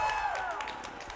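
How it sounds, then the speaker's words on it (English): Packed-house crowd at a Warriors vs Providence hockey game, cheering and clapping in a steady rumble of voices and scattered claps, moderately loud and continuous. "The crowd getting behind them."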